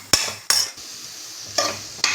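Ingredients sautéing in a pan for a Tamil-style gravy, with four sharp metal spatula scrapes and clacks against the pan over a faint, low sizzle, close up and without speech.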